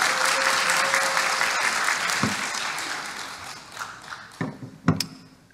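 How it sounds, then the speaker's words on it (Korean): Congregation applause during a Won Buddhist Sunday sermon, steady and moderately loud at first, then fading into a few scattered, isolated claps. "이럴 때 박수 한번 나와야 되는 거예요."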